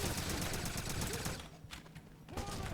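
Gunfire in the 2009 video game Wolfenstein, rapid bursts of automatic shots rattling loudly at first, then easing into scattered single shots with a voice briefly heard underneath.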